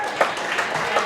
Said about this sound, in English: Please, big clap to Madam